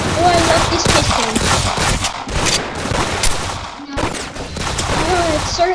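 Pistol and other gunfire in the Roblox game Arsenal, with rapid bursts of shots throughout, loud and close, layered over game music and a brief pause before firing resumes.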